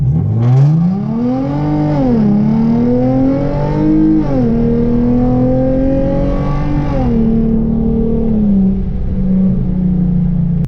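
Hyundai Genesis Coupe launching from a standstill with traction control off, the engine note climbing through several gears with clear dips at each shift before easing off to a steady hum; loud and close, no talking.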